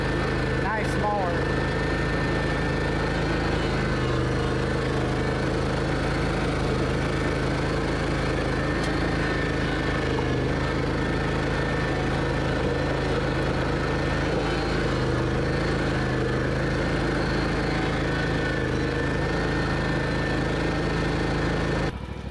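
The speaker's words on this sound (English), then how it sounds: "zero turn mower. This is heavy duty, has the springs on it for a nice soft drive." A heavy-duty Ferris IS2000Z zero-turn mower with spring suspension runs its engine in a steady, unbroken drone, close by and moderately loud for the whole stretch.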